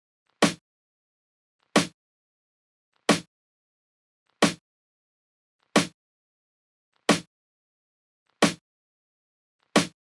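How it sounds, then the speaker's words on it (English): Old-school snare drum hits in a simple beat pattern, eight sharp isolated cracks evenly spaced about every 1.3 seconds, each decaying quickly into silence. "So I then put on this very simple snare pattern"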